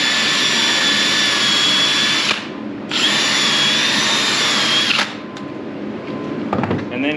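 Drill-driven steel brush spinning against a ski base, a loud steady high whine in two long passes separated by a brief pause, ending with quieter scraping.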